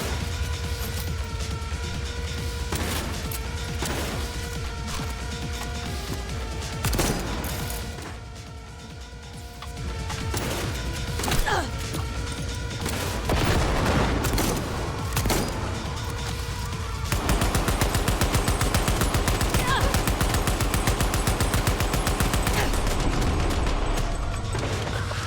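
Cyberpunk gameplay combat, with a grenade and gunfire going off in bursts of impacts and crashes over a constant dense backdrop of game sound and music, loud and busy throughout.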